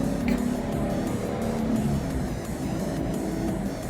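A car with a Tremec TR-6060 manual transmission accelerates hard, its engine roaring loud and steady from inside the cabin as it pulls through the gears into sixth.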